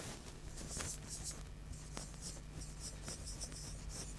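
Writing on a board in an English grammar class, heard as faint, quiet strokes and brief scratches with a few small taps, steady and soft, without speech.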